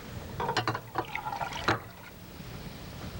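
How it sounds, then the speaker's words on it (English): Three cups of water poured into a pot for spaghetti sauce, a few short splashing bursts and trickles close by, then a quieter settling. "And that was 3 cups of water."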